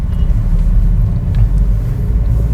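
A 2014 Hyundai Xcent car being driven, its steady low engine and road rumble droning continuously from inside the cabin, with no distinct peaks or pauses.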